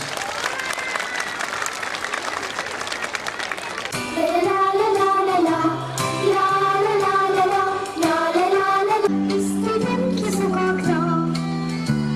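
Hands clap loudly for Dora, a seven-year-old student with cerebral palsy, at a 23 April school celebration; a dense burst of applause gives way to loud music that carries on over continued clapping.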